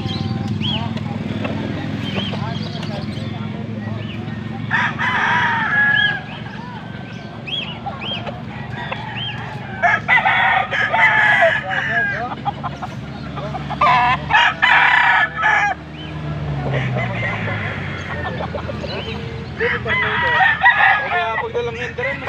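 Several quality gamecocks crow and cluck from close by, with repeated loud crows rising over a continuous murmur of nearby voices.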